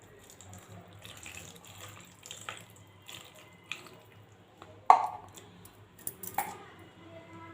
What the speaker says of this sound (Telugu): ముక్కలు గ్లాస్ అంటే మూడు బై నాలుగో వంతు వాటర్ వేసేసాను ఇందులో